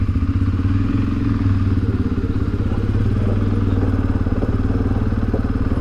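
A CFMOTO CFORCE 400 ATV pulls away in drive, its engine a loud, steady, close throbbing rumble with rhythmic pulsing and some rattling clatter throughout, no talking over it.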